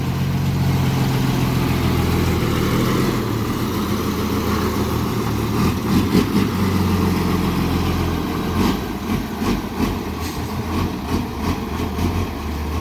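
A water truck's engine runs steadily close by, with a loud, low rumbling drone and some rattling bursts partway through, and no voices over it.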